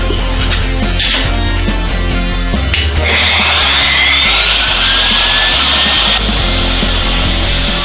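A router bit cuts slowly across hard, coarse-grained oak, making a loud, continuous grinding whine whose pitch shifts midway as the cut continues without pause.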